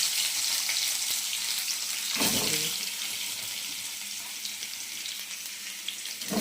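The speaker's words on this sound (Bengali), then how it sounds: "এই যে লঙ্কার গোটা পোটা দিয়ে দিয়েছি। এখন ভাজবো।" Spinach, brinjal and other vegetables fry in a scorched wok with black cumin, a steady broadband sizzle running throughout, close and moderately loud, with a brief stirring scrape near the middle.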